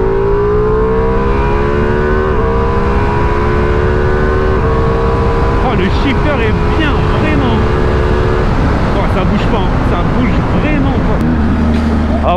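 A trail motorcycle engine drones steadily while being ridden, its pitch sliding up and down through gear changes and throttle shifts, loud and close, with a rider's excited voice over it.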